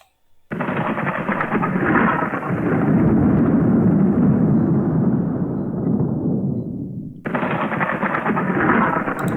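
Thunderstorm sound effect with rumbling thunder and steady rain, a loud sustained roar that swells, fades off, then cuts back in abruptly near the end, with no talking.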